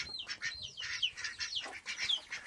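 A hen sitting on her nest in a chicken coop gives a steady run of soft, high, repeated clucks and chirpy calls, close and fairly quiet, with no talking.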